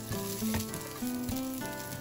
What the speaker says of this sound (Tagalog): idagdag na natin ang sibuyas, bawang,